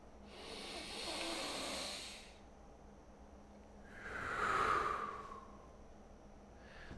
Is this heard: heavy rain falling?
no